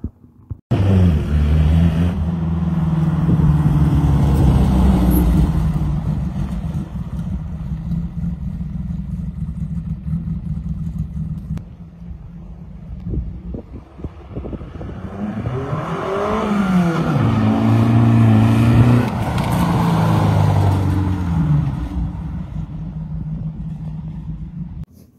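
A 1931 Ford Model A engine runs close by, revving up in two long swells with a low throbbing idle between them, no talking over it.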